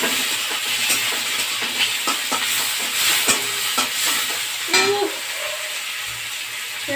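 Onions frying in a pan while being stirred, with a steady sizzle under scattered scraping and clinking strokes of a utensil, close and fairly loud throughout, no talk.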